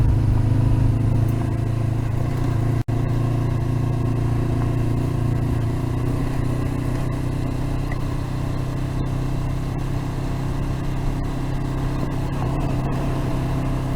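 Honda CB500X motorcycle on Shinko 705 tyres climbing uphill along a rural road, its steady mid-range engine drone and wind rumble continuous and close, with no pause throughout.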